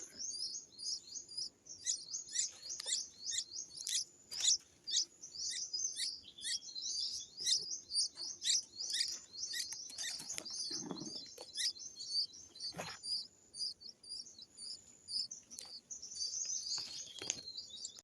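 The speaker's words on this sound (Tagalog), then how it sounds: "Ayan po ang mga ibon po" Dense, steady bird chirping and tweeting throughout, many quick high calls overlapping, with a few brief low thuds in the background.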